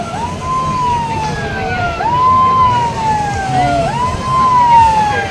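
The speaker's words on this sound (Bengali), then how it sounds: "আর সাইরেন বাজাচ্ছে, শুধু কাছে যেতে বারণ করছে দেখো।" A loud warning siren at Digha beach, its wailing tone rising and falling in repeated sweeps over a low rumble of wind and surf, with no voices.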